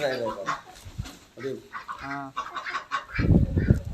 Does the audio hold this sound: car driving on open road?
no